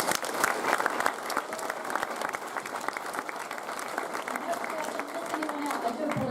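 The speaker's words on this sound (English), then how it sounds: "Can we give these guys a massive applause?" A school prize-giving audience claps for the event helpers, a sustained, fairly distant round of applause filling the hall for over six seconds, steady and even throughout.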